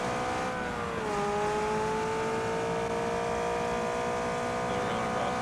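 McLaren car engine in a driving video game, a steady sustained drone whose pitch dips and then holds level, loud and continuous throughout, with brief voices over it.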